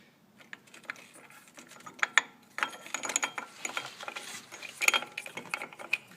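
A brake tool being screwed together by hand during a front disc brake job on a Ford Mustang, giving a run of quick metallic ratcheting clicks and light thread scrapes, close and unaccompanied by speech.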